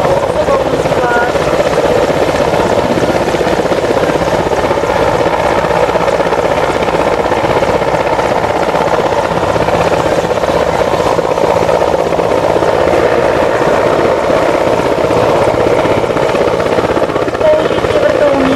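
A Mi-17 helicopter's steady rotor thrum and engine roar, loud and constant throughout, with no breaks.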